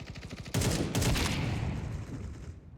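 A loud, continuous burst of automatic gunfire in Counter-Strike 2 starts abruptly after a quieter stretch, with rapid repeated shots blending into a dense roar before tapering off.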